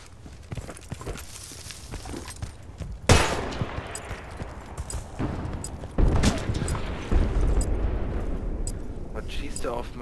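Gunfire in the shooter Battlefield Bad Company 2: sharp shots and bursts punch in around three, six and seven seconds over a dense battle bed, with someone talking throughout.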